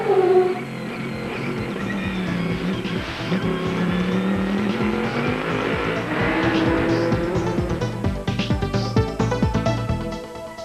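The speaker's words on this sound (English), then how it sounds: "The Crocodile car is coming in long pit lane." A race car at the 2000 American Le Mans Series race in Adelaide roars loudly, its engine note sweeping up and down through passes and gear changes, then breaking into rapid pulsing shifts near the end.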